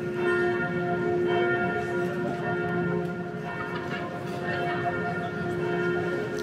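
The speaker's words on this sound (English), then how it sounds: "9:45 bells are ringing right now." Church bells ringing at 9:45 in Marienplatz, Munich, a loud sustained peal of overlapping tolls filling the square, continuous and resonant with faint crowd noise beneath.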